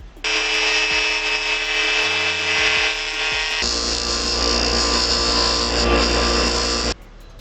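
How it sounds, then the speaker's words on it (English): A power tool grinds down the plastic bill of a fishing lure made from a plastic bag, a loud continuous whine that drops briefly in the middle and then returns harsher and louder before cutting off. "we're going to grind that down some more and see if we can't just make it smaller"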